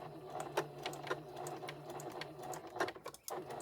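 Sewing machine back stitching a quarter-inch seam on a fabric memory bear, a steady whirring hum broken by several short bursts of stitching, fairly quiet and close with no talk.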